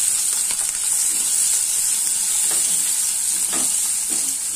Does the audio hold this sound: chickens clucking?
no